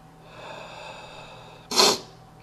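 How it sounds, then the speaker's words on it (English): After eating a 7 Pot Douglah hot pepper, a person breathes heavily through the nose, then gives one sharp, loud sniffle or snort near the end, close to the microphone. "Getting a pretty good sniffle out of it."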